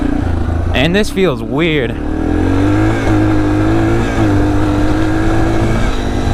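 A Yamaha TTR230 dirt bike engine runs close and loud, rising and falling through quick revs before settling into a steady drone while a rider talks briefly over it.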